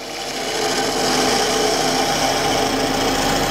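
A steady, loud grinding whir of a woodturning gun drill biting into a wood form to start a hole, continuous and unbroken for a few seconds with no voices.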